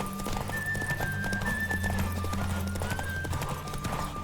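A horse gallops in The Witcher 3, with steady rapid hoofbeats close up and a whinny, set against sustained game music tones.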